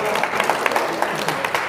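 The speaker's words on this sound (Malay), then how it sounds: "Tepuk tangan untuk Ustaz Ikram." Audience applause for Ustaz Ikram at a teachers' camp session, a brief burst of scattered clapping from a seated group, fairly close and steady, with some murmuring underneath.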